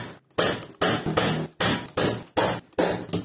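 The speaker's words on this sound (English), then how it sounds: "I can staple all out." Staple gun fastening upholstery fabric onto a dining chair, about seven or eight sharp, close, evenly spaced thuds in quick succession.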